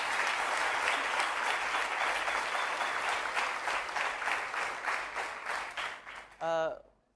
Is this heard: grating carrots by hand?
no